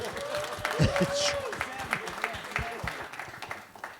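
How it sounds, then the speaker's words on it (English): A crowd at an evening event honoring LGBTQ+ heroes breaks into applause with cheers and shouts, clapping continuing behind voices before tapering off. "Y'all should clap for that."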